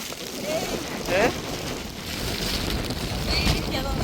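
Steady rain pours outdoors at Vaamala Ayyappan Temple, a dense continuous patter on surfaces close to the microphone, with some wind buffeting and faint voices underneath.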